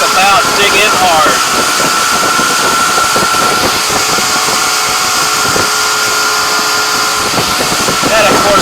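A Sea Pro center console boat's outboard engine accelerates with trim tabs down, a loud steady drone with rising tonal whine filling the whole stretch, heard up close alongside wind and water noise.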